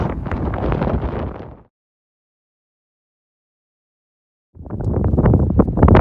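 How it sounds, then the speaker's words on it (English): Gusts of wind buffet the microphone in two rough bursts separated by a few seconds of silence, high in the backcountry of Yosemite National Park. "It's a little bit windy"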